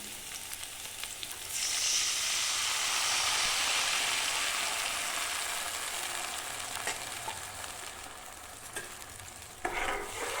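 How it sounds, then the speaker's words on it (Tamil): Tamarind liquid hisses and sizzles loudly as it boils in a hot pan, a steady bubbling roar with occasional stirring scrapes and clatters near the end. "இந்த புளிக்கரைசல் வந்து நல்லா கொதித்து வந்துருச்சுங்க."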